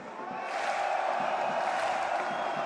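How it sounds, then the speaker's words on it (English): An esports arena crowd at the BLAST Premier Lisbon grand final roars and cheers for MOUZ, a dense sustained wall of voices swelling after a half-second and holding loud throughout. "Who's cheering for MOUZ?"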